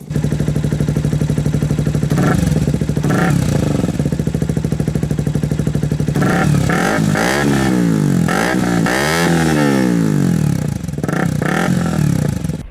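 A KTM Duke 125 motorcycle with an aftermarket exhaust idles with a rapid, loud, close putter. It is punctuated by repeated sharp throttle blips and revs that rise and fall, with no talk over it.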